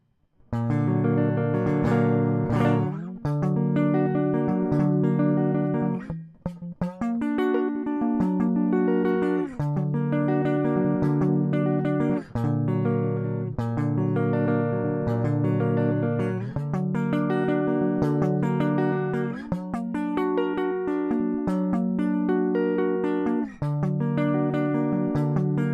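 Guitar chords strummed steadily for a long stretch, each chord ringing out before the next, with a brief pause early on and no talking.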